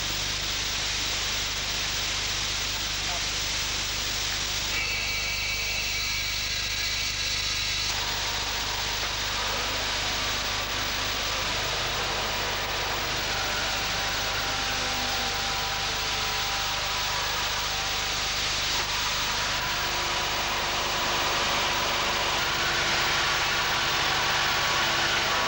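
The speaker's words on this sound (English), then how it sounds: "Machine blast pressures set at 70 pounds per square inch, the Armex Accustrip system is ready to go to work." An Armex Accustrip soda blasting machine runs at 70 psi in dry blast mode on an Australian Oberon class submarine, making a steady loud hiss and rush over a low constant hum that continues without pause.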